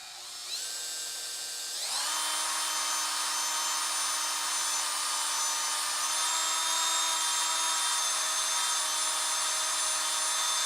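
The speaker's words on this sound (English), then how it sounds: "Might just be the way I have to drill these, is into the box." A power drill bores into a box. The motor whines steadily at a high pitch, starts and then rises to full speed after about two seconds, and runs loud and continuous, close up with no talking.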